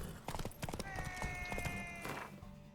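Horse hooves clip-clop in Witcher 3, a steady run of close, distinct thuds on the ground with a bright tonal ring layered over the middle stretch.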